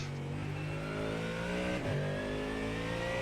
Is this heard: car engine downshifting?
yes